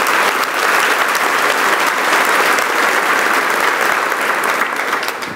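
A church congregation claps steadily and loudly for several seconds, the applause dense and sustained before tapering slightly at the end.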